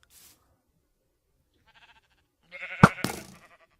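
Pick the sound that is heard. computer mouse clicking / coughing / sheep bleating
sheep bleating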